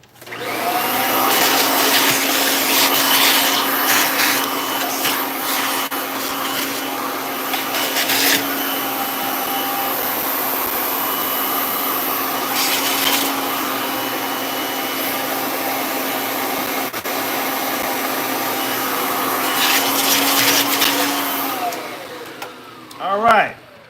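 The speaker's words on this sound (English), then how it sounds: "Let me get my little vacuum" A small handheld vacuum cleaner runs loud and steady nearby while a Kirby is cleaned, a whining motor drone that holds for about twenty seconds with slight pitch shifts before switching off, a voice talking faintly underneath.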